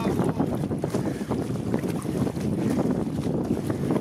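Wind gusts roar across a sailboat as water splashes and sloshes against the hull, a loud, turbulent rush with buffeting microphone noise and no speech.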